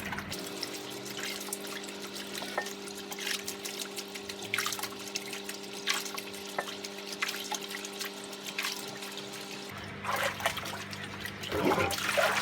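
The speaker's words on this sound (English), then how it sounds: "I'll just keep patting this filter until that water that's coming out of it" Water runs and trickles steadily through a Dyson DC25 vacuum filter being rinsed, with a low mechanical hum underneath and occasional splashes and pats on the filter.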